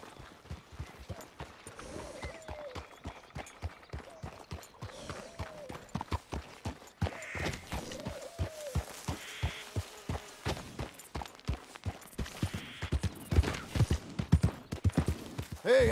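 Hooves of a Shire horse in Red Dead Redemption 2, a steady clip-clop of walking steps on the ground, rhythmic and moderately close, with faint background ambience and brief spoken lines over the footfalls.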